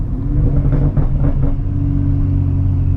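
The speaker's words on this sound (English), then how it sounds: "you guys hear those burbles?" A BMW M235i engine rumbles steadily nearby with low, uneven burbling from the exhaust, a brief swell near the start, no talking.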